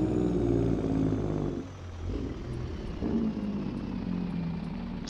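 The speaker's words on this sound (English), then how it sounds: "But here's the drake brake for y'all." A truck's engine brake in Farming Simulator 22 booms with a loud, steady low diesel drone, dipping briefly before rumbling on, with no talking over it.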